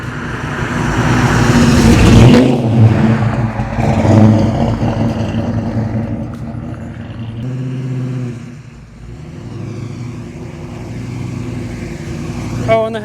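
A 1966 Plymouth Satellite with a 426 HEMI engine accelerates with a loud, deep roar that swells, eases off and then settles, heard from inside the car with people talking over it.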